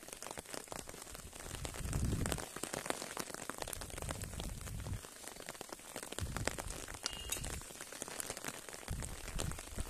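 Steady rain falls outdoors during a cold, wet evening beside a fire, a dense continuous patter of drops with small crackles, no voices over it.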